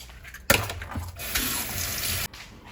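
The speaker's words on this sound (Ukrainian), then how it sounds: "От для чого я мию яйця?" Eggs being washed under a running kitchen tap, a steady close splash of water that starts abruptly, pours for under two seconds and cuts off.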